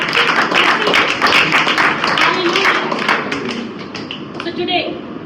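A Sunday service congregation claps in a dense burst of many hands that gradually thins and fades, while a voice talks over it.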